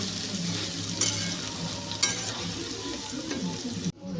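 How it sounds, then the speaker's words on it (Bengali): Soybean chunks with chili powder fry over low gas in a pan, giving a steady close sizzle. A spatula scrapes and knocks against the pan a couple of times. "দেখো সয়াবিনটা অনেকটা ভাজা ভাজা হয়ে এসেছে"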